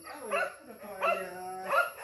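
Hunting dog used for wild boar and deer in Lai Châu province, Vietnam, giving three short bark-like bursts in a row at moderate distance, with a faint steady tone running underneath.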